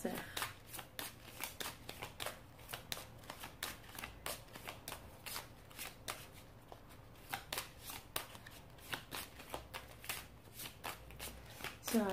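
Tarot cards shuffled by hand before a reading, a rapid, regular train of crisp riffling flicks repeating through the whole stretch, close and fairly soft, with a voice talking over it.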